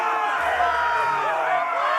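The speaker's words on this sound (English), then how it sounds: "Hear that, boy? We cannot let the crowd go wanting!" An arena crowd in the Game of Thrones Telltale video game roars and cheers in a dense, steady wall of voices that stays loud throughout.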